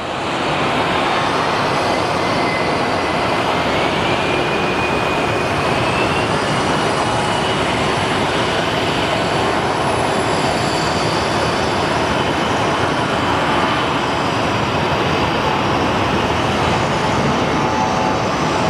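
Airliner at Sky Harbor Airport starting its takeoff roll, a steady, distant broadband jet roar with a faint rising engine whine, continuous and unchanging in loudness throughout.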